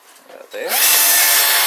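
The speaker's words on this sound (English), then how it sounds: "Now I've got to drill my new holes because my old ones are too close to the edge now." A power drill bores new holes in an AC induction motor part: brief handling knocks, then the drill spins up quickly into a loud, steady high-pitched whir, close by.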